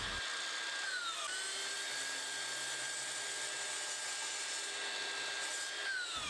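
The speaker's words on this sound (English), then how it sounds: "the fence of the miter saw and use that to help cut the ends of the legs at the correct angle" A miter saw cuts the angled ends of wooden bedside table legs, with a continuous loud high whine from the blade running close by throughout, briefly changing pitch near the start and end.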